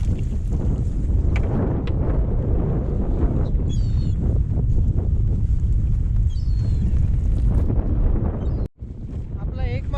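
Strong wind roars across the microphone aboard a fishing boat at sea during a storm, with waves washing steadily beneath, a brief dropout near the end, and faint voices underneath.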